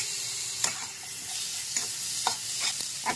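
A medium-sized tomato sizzles in a pan of potato curry seasoned with salt and turmeric, with steady frying hiss and a few sharp stirring scrapes spaced through it.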